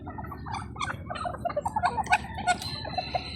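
Poultry calls burst out in a rapid run of gurgling notes, close and fairly loud, over a steady low background hum.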